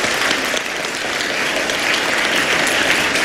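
A church congregation gives a loud, sustained round of applause, many hands clapping densely and evenly from start to finish without any speech.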